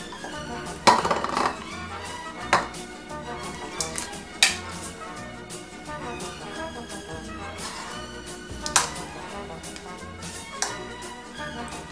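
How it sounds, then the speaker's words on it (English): Black soap, camwood powder and coconut oil stirred into a thick paste in a bowl, giving steady scraping and clinking, with sharper knocks now and then. "Make sure you keep mixing until you no longer see the traces of the camwood powder"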